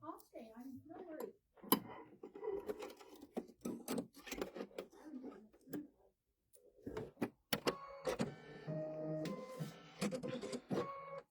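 Embroidery sewing machine stitching a lollipop design: rapid mechanical whirring and ticking pulses that build to a steady motorized hum, with people talking over the start.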